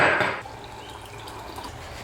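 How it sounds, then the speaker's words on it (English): Water is poured for lemon water: a brief splashy pour at the start fading into soft trickling and drips, close and moderately quiet. "I'm gonna go make my lemon water and start my day."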